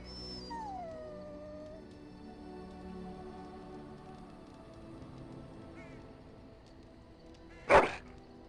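A dog howls in a video game, a long falling wail followed by a quieter drawn-out tone and a sharp loud bark-like burst near the end, over a soft ambient game backdrop.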